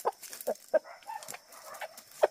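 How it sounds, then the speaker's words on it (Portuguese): Clucking from a heavy rooster, a series of short, close, loud clucks in an uneven rhythm, with brief pauses between the bursts. "ele é um galo pesado"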